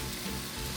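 Meat hitting a hot pan and sizzling steadily, a dense close frying hiss that holds evenly through the short moment with no voices.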